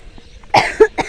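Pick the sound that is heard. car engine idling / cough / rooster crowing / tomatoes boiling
cough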